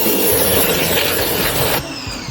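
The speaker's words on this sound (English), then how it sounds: "And then take your pressure washer." A pressure washer sprays a ceramic-coated car, producing a loud, continuous hissing roar that drops off abruptly near the end.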